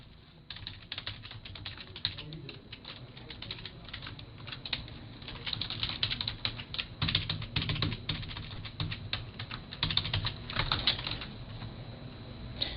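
A username is typed on a computer keyboard in a rapid, continuous clatter of close keystrokes with small pauses, no voices over it.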